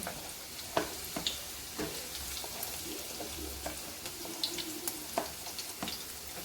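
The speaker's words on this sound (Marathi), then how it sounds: "लसणाला छान फोडणी द्यायची" Garlic sizzles steadily in hot oil, a continuous crackling hiss broken by occasional sharper pops and a few utensil taps, heard close up with no voices.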